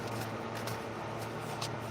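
Quiet riffling of a card deck being shuffled, a soft papery flutter with a few brisk snaps, fairly close.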